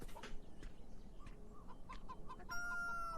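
Faint clucking from chickens in the video game Beyond Eyes, a few short scattered calls over a soft hissy background, with a brighter tonal chirp near the end.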